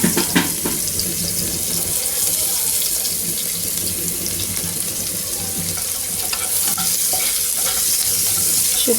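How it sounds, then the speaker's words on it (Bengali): Dried red chillies fry in a pan with steady, continuous sizzling and crackle, close and fairly loud, with occasional clinks of stirring throughout. "শুকনো মরিচগুলোকে ভেজে তারপর ভাজিটা দিয়ে দিব"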